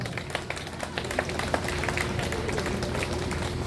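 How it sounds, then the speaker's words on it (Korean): A ceremony audience applauds honoured senior classmates from the 18th class, a dense, steady wash of many hands clapping at moderate distance, with scattered sharper claps and faint voices underneath throughout. "박수 한번 보내주시기 바랍니다"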